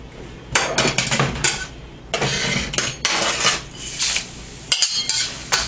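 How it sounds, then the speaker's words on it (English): Metal utensils clank and scrape against a pan as ground spices, fenugreek seeds and ginger go into hot oil for a vindaloo, a run of loud, close, irregular clattering bursts with a sizzling hiss between them. "And those are all going to get tossed right into this hot oil."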